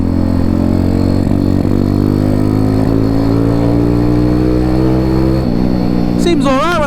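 A Honda C50 motorcycle engine runs continuously and close up, a steady low putter with slight rhythmic unevenness, ending with a brief louder surge at the end.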